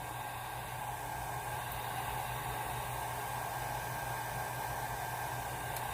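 A hair dryer blows steadily on alcohol ink, a constant close, broadband whooshing roar with a low hum that holds unchanged throughout, with no talking.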